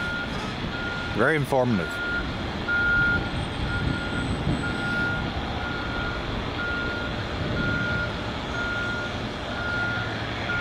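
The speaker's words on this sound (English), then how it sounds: "Yeah, the beep, beep, beep." A truck's reversing alarm beeps in a regular repeating pattern behind engine rumble, while a voice speaks briefly near the start.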